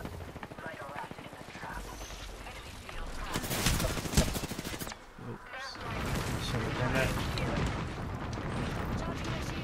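Enemy gunfire in a shooter video game: dense bursts of shots and cracks, with a loud cluster near the middle, under game noise and a player's talk.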